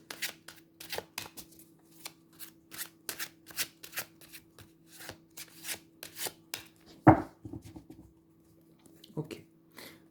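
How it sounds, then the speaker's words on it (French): Tarot cards being shuffled by hand during a reading, a steady series of crisp riffling and slapping bursts close to the mic, with one sharper knock partway through and faint murmuring in places. "Donc je mélange une bonne fois et on va préparer les cartes."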